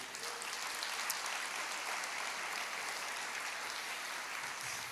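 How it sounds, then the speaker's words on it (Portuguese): Quiet, steady applause from a church congregation during a sermon, a soft, even wash of clapping that sounds somewhat distant and keeps a constant level. "Aplauda o Senhor, querido."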